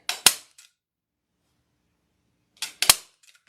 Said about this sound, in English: I'm just going to staple this right to the sign